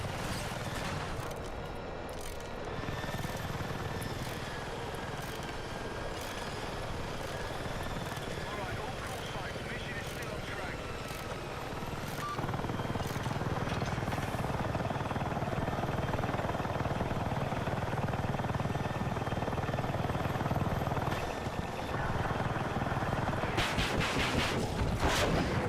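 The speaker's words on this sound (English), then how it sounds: "there's another heli" A helicopter in a video game thrums steadily throughout, a dense rotor-and-engine roar at constant loudness that swells slightly partway through, with someone talking intermittently over it.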